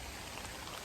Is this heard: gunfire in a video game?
no